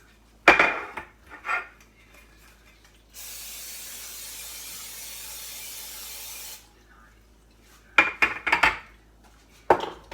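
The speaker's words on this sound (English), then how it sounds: "So I'm going to spray the pans." Non-stick cooking spray hisses onto muffin pans in a single steady burst of about three and a half seconds, framed before and after by close clatter of the metal pans being handled.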